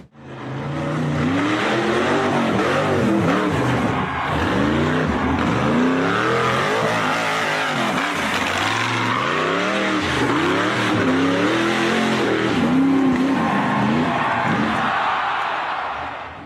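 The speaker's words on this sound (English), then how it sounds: "gray buggy accelerated up the tall, slippery dirt hill in the forest" A gray off-road buggy's engine roars loud and close as it accelerates up a tall, slippery dirt hill in a forest, revs rising and falling continuously with no break.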